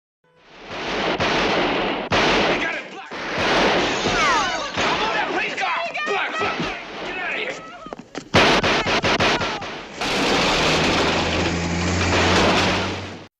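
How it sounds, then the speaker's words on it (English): Gunfire and crashing impacts from a police shootout in the 1967 crime film Bonnie and Clyde, a dense, loud barrage of bursts running almost continuously for the whole stretch. "The gunshot was unavoidable."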